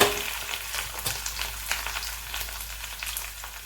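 Curry leaves and asafoetida sizzle in hot oil over a low flame, a near, crackling hiss with scattered pops and light stirring, steady and unbroken with no talk.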